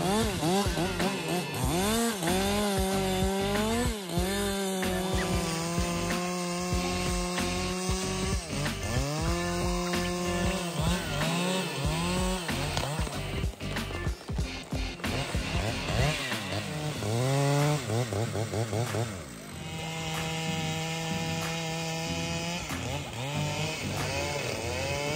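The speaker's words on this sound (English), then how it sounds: "cutting down two large trees with a Husqvarna 395XP chainsaw" A loud Husqvarna 395XP chainsaw engine roars and revs repeatedly, its pitch rising and falling as it bites through large trees, continuous and close for a long stretch.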